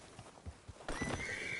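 Horse in the Red Dead Redemption 2 video game, with soft hoof clip-clops followed by a loud, close whinny that rings out near the end.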